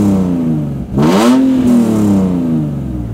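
A car engine fitted with stainless steel full-length headers blips sharply, rising to a loud, raspy rev and then settling back to a steady, throaty idle, close to the exhaust with no voices.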